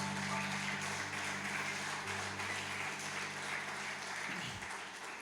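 Church congregation applauding during a Sunday morning Pentecostal-style worship service, steady continuous clapping over sustained organ or keyboard tones, fairly distant and even throughout, fading slightly near the end.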